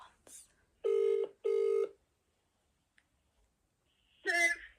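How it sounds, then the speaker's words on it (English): A mobile phone rings in two loud, even tonal bursts close by, followed by a pause and a brief voice or sound afterward. "Who's ringing me? My best friend is ringing me."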